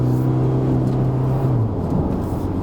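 An Isuzu D-Max X-Terrain pickup's engine drones steadily from inside the cab as it is shifted down a gear, the humming tone dipping and shifting in pitch with a low road rumble underneath.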